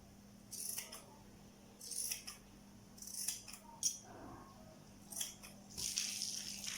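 Scissors snipping the wrapping material around a high heel insole, a series of short crisp cuts in small bursts with pauses between, close and quiet, no speech.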